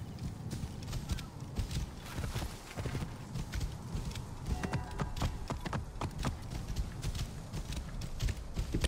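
Horse hooves clip-clop steadily in the ancient Egypt setting of Assassin's Creed Origins, a brisk rhythmic trot heard up close with ambient game sound beneath and no clear talk.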